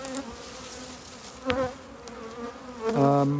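Honeybees from strong colonies buzzing steadily around hives near flowering ivy and sugar syrup feeders, a dense close drone with a louder bee passing near at the end.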